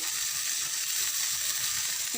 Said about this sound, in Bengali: মশলাগুলো একটু কষিয়ে নেবেন।